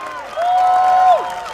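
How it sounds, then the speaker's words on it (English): A crowd at an outdoor political opposition rally in Marsiling-Yew Tee claps and cheers, with a loud sustained tonal horn or whistle riding over the steady applause before it tapers off. "round of applause, please."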